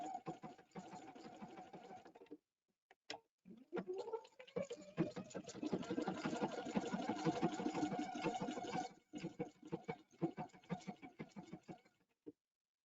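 A Brother Epic 2 embroidery machine stitches a pattern of circles, its rhythmic mechanical whirring running in bursts broken by brief pauses, close and alone.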